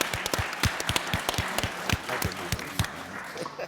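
Audience members at a Capitol Harley-Davidson power and performance workshop clap for Shannon and the shop, a thin, scattered round of individual claps from a small crowd, fairly faint and tapering off.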